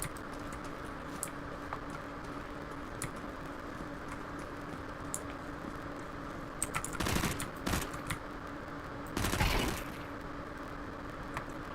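Gunfire in the video game CS2: short bursts of rapid shots stand out against a low, steady background hum, with two louder clusters near the end and faint clicks before them.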